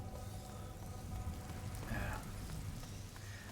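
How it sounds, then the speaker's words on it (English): Steady rain hisses and patters across surfaces in A Plague Tale: Innocence, a soft, continuous wash with a few brief tonal game sounds over it. "Lucas, Hugo, stay out of the rain"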